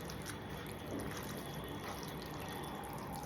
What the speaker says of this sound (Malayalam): വെള്ളം ഇറക്കുവാണേ.